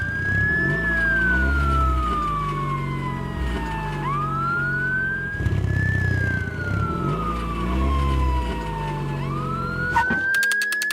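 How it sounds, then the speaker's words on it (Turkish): A loud wailing fire truck siren rises and falls in long, slow sweeps over a steady engine rumble, close by and continuous, in a children's cartoon. "itfaiye aracı var. Sirenini açıp yardım etmek için olay yerine gidiyor."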